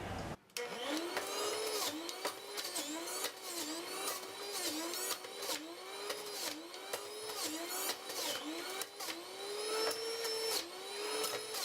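A juicer machine grinds apple for a green juice, a continuous whining motor that rises and dips in a regular rhythm as the fruit is pushed through, steady and close throughout.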